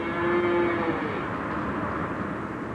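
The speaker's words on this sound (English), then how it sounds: "This cattle truck on the way to the slaughterhouse overturned on the ramp, and 20 cows escaped" Cows that escaped from an overturned cattle truck on a highway ramp moo, one drawn-out, steady low call near the start over a continuous background rumble, moderately distant.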